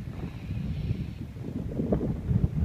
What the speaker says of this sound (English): Wind's a good 20 miles.